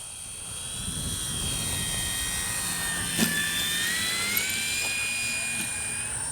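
A small Arrows RC Bigfoot model airplane engine whines steadily overhead, its pitch rising and falling as it passes, with a constant buzzing drone throughout.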